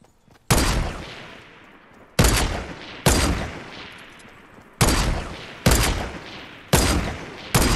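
Loud Fortnite gunfire rings out as six sharp, close shots at irregular intervals, each followed by a decaying echo, with no talking between them.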